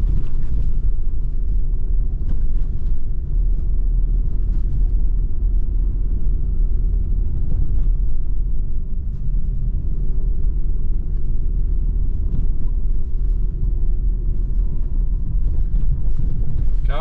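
A car creeps through deep snow in a blizzard with little grip, its engine a steady low rumble under constant wind buffeting the microphone, with faint scraping and thumps throughout.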